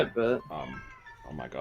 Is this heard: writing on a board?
no